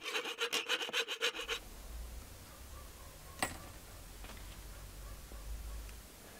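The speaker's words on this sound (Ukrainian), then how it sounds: "Вирізаємо наші заготовки." A hand saw cuts fishing lure blanks in quick rhythmic back-and-forth strokes for about a second and a half, then stops, leaving a low hum and a few light clicks and taps.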